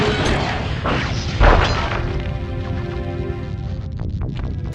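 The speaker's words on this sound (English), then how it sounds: "Break me out of this force field by smashing its base" A heavy smash and boom as a force field's base is broken in the Sly Cooper video game, one loud impact followed by a ringing mechanical hum that fades out.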